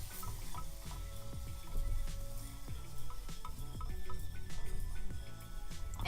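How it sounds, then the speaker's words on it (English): Spices being stirred and toasted in a hot pan for plant-based chilaquiles, a soft sizzle under scraping utensil strokes against the pan, fairly quiet and close, with no talking. "And then you want to stir."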